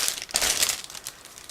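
Plastic bag holding model kit sprues for a 1/72 IBG PZL.37B Los being pulled open, a close, crisp crinkling in quick irregular bursts that taper off toward the end.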